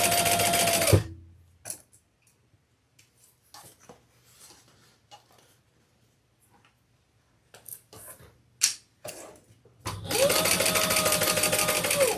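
A sewing machine stitches a Lola handbag in two loud, steady motor runs, one short burst at the start and a longer one at the end, with quiet handling clicks and rustles in between.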